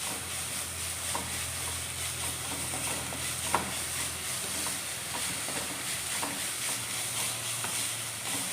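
Finely chopped onion sautés in a pan for spinach cutlets, a soft continuous frying hiss with occasional light scraping and stirring clicks, fairly quiet and unbroken throughout.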